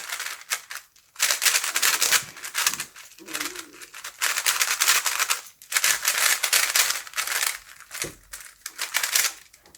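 A GAN 11 M Pro speedcube clacks as it is turned, with rapid bursts of sharp plastic clicks separated by short pauses, close to the microphone.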